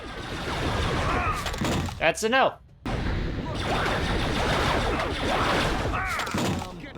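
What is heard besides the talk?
blaster pistol shootout with cannons, from Star Wars Bounty Hunter video game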